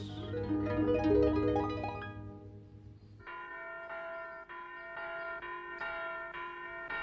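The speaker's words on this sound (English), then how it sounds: "There goes the school bell." A school bell rings in a children's herb-garden story, striking in a steady repeated rhythm after a passage of music fades, clear and moderately loud.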